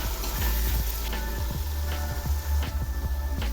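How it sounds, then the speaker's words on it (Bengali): Ground chili and coriander powder sizzle steadily in hot oil in a pan, a continuous close frying hiss with occasional soft stirring scrapes and spatters, no talking. "এই মশলাগুলো খুব ভালো করে কষিয়ে নেব"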